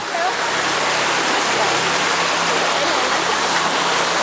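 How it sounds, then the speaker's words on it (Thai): A tall waterfall near Ban Sing Tham in Thung Pha Suk, Chiang Kham, roars as a loud, steady broadband rush of falling water through the whole stretch, with no break or change in level. "มีน้ำตกด้วย นี่เห็นไหม มีน้ำตกสูงเลย"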